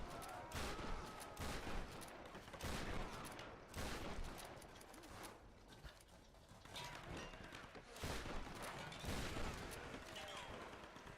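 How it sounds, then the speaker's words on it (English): Rapid bursts of gunfire from the Tomb Raider video game, sharp repeated shots in clustered volleys with brief gaps over a steady background of game sound effects. "Bullets."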